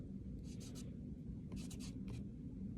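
Letters being scratched into clay on a small piece of cardboard during a pinch pot demonstration: faint, short scraping strokes in a few quick clusters over a low background hum.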